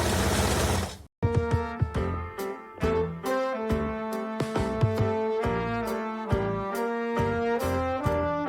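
A sewing machine runs a straight seam on a half-moon rug project, with a rapid, even mechanical stitching clatter. It stops briefly at the start and then carries on steadily at close range, with no speech.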